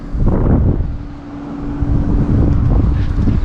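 Strong wind blows across an open winter pond, a loud, steady low rumble buffeting the microphone and easing slightly midway before gusting hard again.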